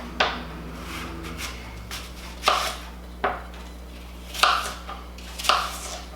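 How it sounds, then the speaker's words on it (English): Knife slicing an apple in half on a board for juicing, giving a handful of sharp, separate cuts and thumps spaced irregularly, close and fairly quiet over a low steady hum. "So I'm just going to cut a little bit over half of an apple here."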